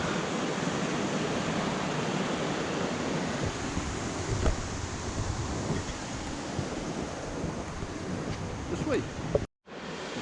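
Waterfall rushing beside a muddy forest path, a steady broadband roar of falling water that stays constant and fairly loud before cutting off abruptly near the end.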